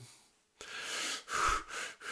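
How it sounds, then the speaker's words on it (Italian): A man breathes in sharply through the nose, then pushes air out through the mouth. Several close, loud breath rushes come in quick succession after a quiet start. "respirazione inalazione col naso, espulsione con la bocca"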